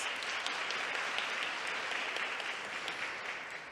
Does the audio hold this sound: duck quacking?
no